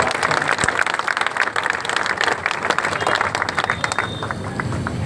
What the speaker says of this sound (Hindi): आप अपने लिए दिल से तालियां बजाइए।